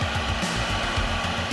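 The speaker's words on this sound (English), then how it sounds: "One thing that we didn't have in our last Odyssey that we have in this one is a vacuum in the back seat," The built-in back seat vacuum of a Honda Odyssey minivan runs with a weak suction, giving a steady, close, airy whir with no voices over it.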